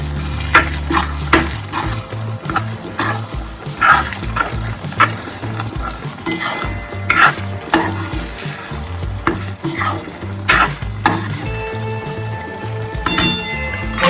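Pav bhaji vegetables with coriander-cumin powder are stirred in a pan, with continuous close scraping strokes over a steady sizzle of frying, and repeated regular stirring sounds throughout.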